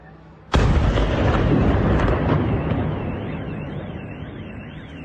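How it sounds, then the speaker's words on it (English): A sudden heavy explosion booms across a city, followed by a long rumbling, roaring tail that slowly fades with a wavering whine in the background. "The city is shaking from the explosions."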